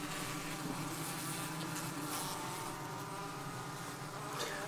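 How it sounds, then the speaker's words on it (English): A steady, dense buzzing of many honey bees in a Langstroth hive during an inspection, slightly agitated by smoke, fills the whole stretch, close and continuous with no pauses. "listen to your bees. They're a little annoyed by the smoke"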